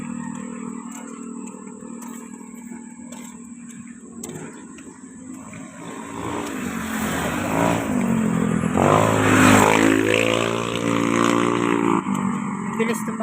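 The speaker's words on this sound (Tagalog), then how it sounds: "Bilis ng mga motor na to." Motorcycles speed past on a residential street during an evening walk, their engines rising and falling as each one approaches and recedes. A louder rev builds midway. A voice speaks over the traffic.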